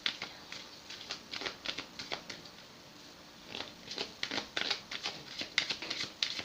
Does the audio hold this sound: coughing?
no